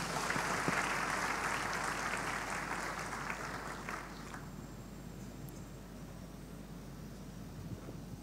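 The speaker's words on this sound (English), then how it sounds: "Clap more for the Lord Jesus." A church congregation claps during a healing service, a dense wash of applause that starts strong and thins out midway, fading into a quieter hiss.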